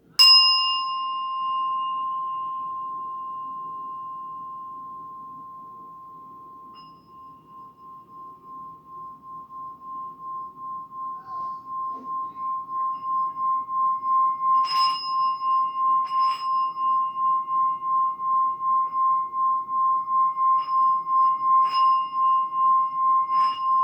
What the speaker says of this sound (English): Let's get that bell ringing for you.